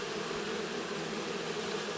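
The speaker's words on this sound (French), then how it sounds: "il y a toujours des abeilles qui viennent se mettre dans mon bazar apicole" A swarm of honeybees around beekeeping equipment produces a steady, dense drone of buzzing, close and constant throughout with no voices.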